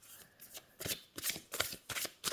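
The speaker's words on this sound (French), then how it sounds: "les cartes se mélangent bien" Oracle cards being shuffled by hand in a quiet room, several quick crisp riffling bursts in an uneven rhythm, close and fairly soft.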